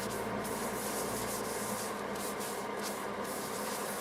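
Shellac sealer being rubbed onto turned cherry crotch wood on a lathe, a soft continuous close rubbing hiss with a faint steady hum beneath, no talking.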